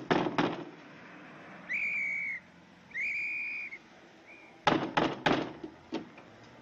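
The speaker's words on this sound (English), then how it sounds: "Isn't that a police whistle?" A police whistle in a 1940 black-and-white film, two sustained shrill blasts at moderate distance between sharp thumps and knocks at the start and end.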